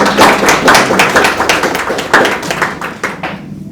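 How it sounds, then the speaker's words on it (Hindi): Loud, dense clapping from a crowd that holds steady for a few seconds, then tapers off toward the end. "जोरदार ताली होना चाहिए।"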